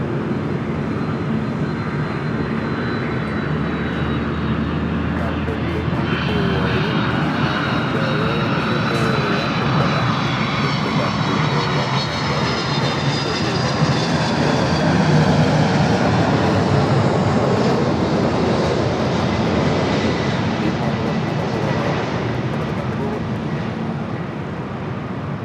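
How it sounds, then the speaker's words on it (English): A jet airliner takes off at LAX, its engines roaring loudly and steadily with a rising whine as it accelerates down the runway, heard from a distance without speech. "Right, number 2 for takeoff."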